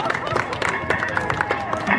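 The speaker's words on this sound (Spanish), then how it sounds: "Un aplauso para ambos, por favor." Audience clapping and cheering after a minisumo robot match at a tech games competition, a dense burst of crowd applause with background hubbub and voices throughout.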